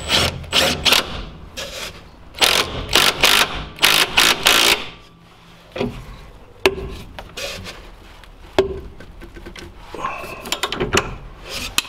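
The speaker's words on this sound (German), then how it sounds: "wir können das Schräubchen wieder ansetzen und machen dies wieder fest" A tool tightens a small screw on a VW T4 van during a rear spring replacement. Quick rhythmic ratcheting clicks come in close bursts, followed by sparser metallic clatter and handling noises.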